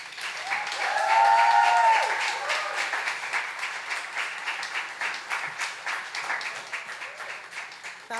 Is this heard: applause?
yes